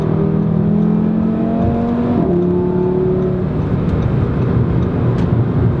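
An Audi RS3 Sedan engine drones steadily, its pitch holding then dropping as the revs shift while sliding through a curve, with continuous road and wind noise throughout.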